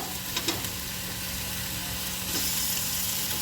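Potatoes and whole onions frying in a pan, a soft, steady sizzle that stays fairly faint, with a couple of light clicks near the start and no talk.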